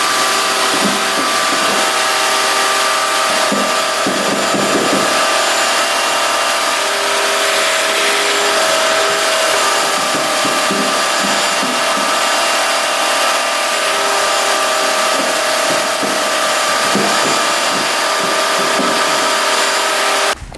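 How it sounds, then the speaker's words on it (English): A vacuum cleaner sucks a mouse nest out of an ATV, a loud continuous whine with rough scraping and rattling bursts as debris is pulled through, running steadily and stopping abruptly at the end. "So we're gonna vacuum that out first, get that out of there."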